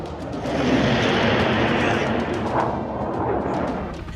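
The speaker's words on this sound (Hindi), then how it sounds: "आग बरसाती मिसाइलें।" Missiles firing in a war between Russia and Ukraine, a dense, sustained roar of launches and blasts filling the whole clip at steady high loudness, with rumbling low end and scattered sharper cracks on top.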